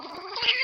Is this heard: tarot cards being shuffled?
no